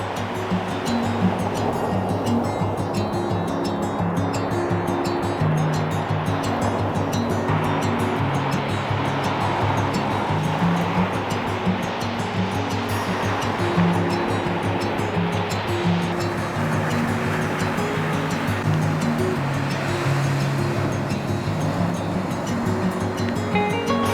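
Steady surf washing along a foggy New Jersey shoreline, a continuous broad roar of breaking waves heard alone with no talk, constant and fairly loud throughout.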